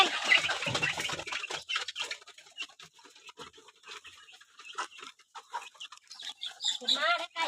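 Chickens cluck and squawk at a rural farm during feeding time, a busy scatter of close, irregular calls with people talking in the background.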